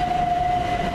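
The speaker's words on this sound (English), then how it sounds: "as the train from Portsmouth Harbour to Victoria comes back in" A Class 377 electric train on the Portsmouth Harbour to Victoria service arrives at Havant station. A loud steady rumble carries a sustained high whine or tone, heard up close.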